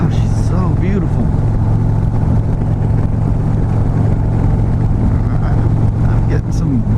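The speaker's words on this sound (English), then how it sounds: "I'm getting some buffeting there." Loud, steady wind buffeting and road roar while riding a 2015 Harley-Davidson Street Glide Special, a dense rumbling rush that fills the whole stretch with engine drone beneath, and a voice speaks briefly over it.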